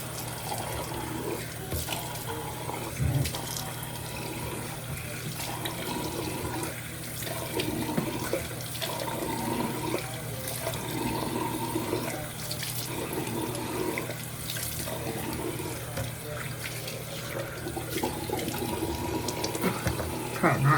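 Tap water runs steadily into a sink while someone rinses their face during a skincare routine, a continuous close splashing flow with intermittent cupped-hand splashes throughout.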